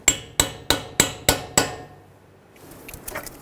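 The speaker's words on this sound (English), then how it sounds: "Using a hammer and a punch, we're going to stake the axle nut." Six sharp metal hammer strikes on a punch ring out in an even rhythm, staking the axle nut on a 2003-2008 Honda Pilot, each with a short decaying ring, followed by faint handling noise.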